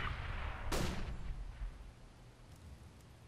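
A flashbang grenade goes off in CS:GO: one sharp, loud burst followed by a fading noisy tail over a rumbling game background.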